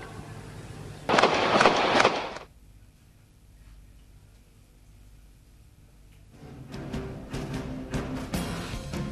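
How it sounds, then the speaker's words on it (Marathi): Bursts of automatic weapon gunfire during the attack on the Charlie Hebdo magazine offices in Paris, one loud dense volley of rapid shots, then a quiet stretch, then a rougher run of scattered cracks and street noise. "C'est une arme automatique."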